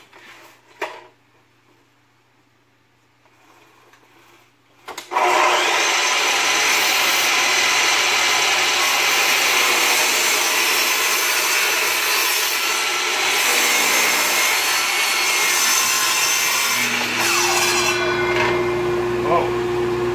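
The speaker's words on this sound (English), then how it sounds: "now we're over at the sliding compound miter saw" A sliding compound miter saw starts up and cuts through wood sections for a cradle, a loud continuous whine and rasp that holds steady for about fifteen seconds after a quieter start.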